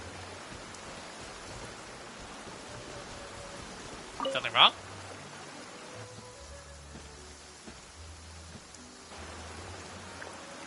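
Rain in Genshin Impact gives a soft, constant hiss of rainfall, with a short line of character dialogue cutting in near the middle.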